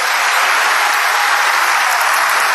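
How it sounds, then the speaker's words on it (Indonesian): An audience claps in steady, dense applause that stays loud and even throughout, with no talk over it. "tepuk tangan"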